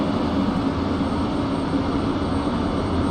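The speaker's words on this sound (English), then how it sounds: "You are hearing the engine starting to turn on now" A steady, loud F-16 jet engine roar with a high whine on top as the engine spools up in a flight simulator game, constant throughout with no voices.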